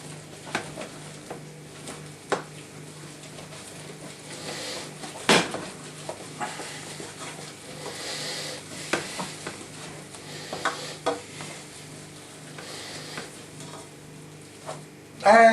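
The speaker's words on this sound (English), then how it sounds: "add a generous knob of butter, a little salt, lots of black pepper, and continue to stir." Butter, salt and black pepper being stirred in a pan: a steady soft scraping and gentle sizzle running throughout, with occasional light utensil taps and a louder knock near the end.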